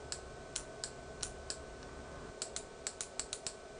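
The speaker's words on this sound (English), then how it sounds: "I'm clicking it on and off rapidly" A switch in a back-EMF test circuit is clicked on and off quickly, giving a run of crisp, evenly spaced clicks with a short gap in the middle, close up over a steady hum.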